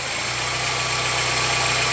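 A car engine idles steadily while its ignition timing is adjusted by turning the distributor, a constant close mechanical hum with a regular low throb and no speech.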